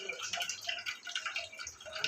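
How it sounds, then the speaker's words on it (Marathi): Water is poured into the strained green-chutney spicy water for street-style pani puri, giving a soft, steady trickle and dripping throughout, faint and close with no talking. "आपल्याला जेवढं पाणी पाहिजे तेवढं आपण पाणी यामध्ये ॲड करू शकतो."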